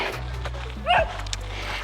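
Dogs out on an evening walk give a single quick yip over steady outdoor background noise, with a low hum running underneath.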